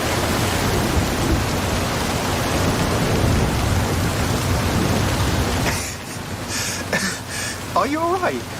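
Steady rain with low thunderous rumble in a storm in the video game Forza Horizon 5, loud and continuous for most of the stretch before dropping away near the end, where a voice briefly speaks.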